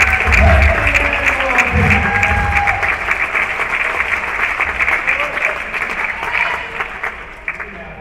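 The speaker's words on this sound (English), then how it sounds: "Big round of applause for our silver medalist." Sustained audience applause for a silver medalist at a championship event, a dense wash of many hands clapping that starts loud and gradually tapers off, with faint voices underneath.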